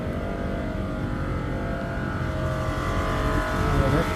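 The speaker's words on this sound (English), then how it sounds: "Oh, noisy squirrel compressors." Noisy HVAC squirrel-cage compressors at an Italian autogrill give off a loud, steady broadband roar and rumble that stays constant throughout, with no talk over it.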